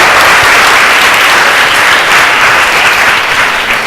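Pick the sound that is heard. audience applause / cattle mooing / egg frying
audience applause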